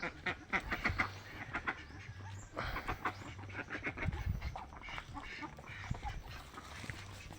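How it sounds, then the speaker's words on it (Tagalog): Ducks quack repeatedly on a small backyard duck farm of six laying hens, the calls close and busy over a steady low background rumble. "Ito yung munting itikan ko guys."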